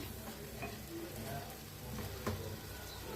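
Masala for egg curry fries in a pan, a quiet, steady sizzle with soft stirring scrapes and a light clink.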